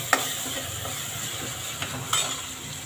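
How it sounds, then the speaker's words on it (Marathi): Onion-coconut paste stirred and sautéed in a pan with tomato and asafoetida for a drumstick curry, a steady low sizzle with a few sharp spoon scrapes and clinks, close and alone without talk. "कांदा खोबऱ्याचं वाटण परतून घ्यायचं"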